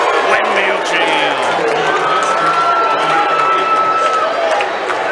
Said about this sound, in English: Got some oohs and ahs out of the crowd here in Senatobia.